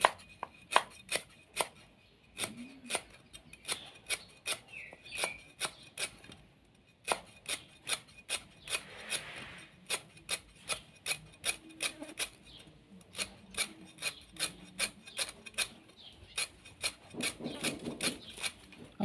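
A knife slices stalks of ingredients, including galangal, on a board for a Thai miang salad, making quick, even, close taps in a steady rhythm with one short pause partway through.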